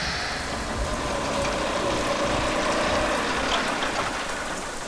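Steady rain falls in a dense, even wash of noise that stays constant and fairly loud throughout, with no voices.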